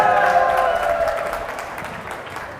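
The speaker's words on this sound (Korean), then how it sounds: "박수 많이 주세요" An audience at a Gachon University open-mic busking event gives a warm round of applause for the last busker. The dense clapping starts full over a faint lingering tone, then gradually thins and fades.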